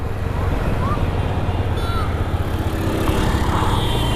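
A Hero Xtreme 125R motorcycle engine drones steadily while riding at speed, mixed with heavy wind rush and a faint voice.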